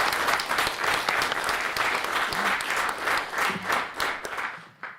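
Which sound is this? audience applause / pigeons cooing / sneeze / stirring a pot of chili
audience applause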